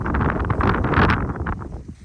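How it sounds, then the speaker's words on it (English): Cold March wind gusts on a farm after a snow squall, buffeting the microphone with a loud, rough rush that swells and then eases off. "But it's still windy and it's still cold."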